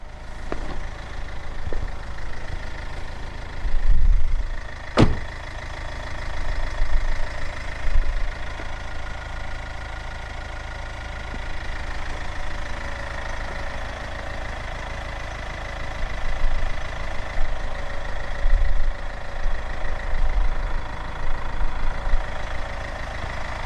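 A 2014 Hyundai ix35 1.7 CRDi diesel engine idles steadily with a low, even rumble and a slight clattering knock. A sharp click sounds once early on.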